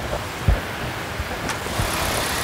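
A Toyota Rush TRD idles steadily after a push-button start, its low, even engine hum close by and alone, with a faint thump near the start.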